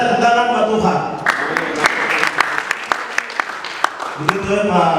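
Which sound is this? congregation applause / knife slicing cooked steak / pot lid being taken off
congregation applause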